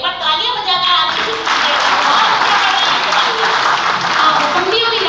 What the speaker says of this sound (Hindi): देखिए ना आपकी तालियों में कितनी ऊर्जा है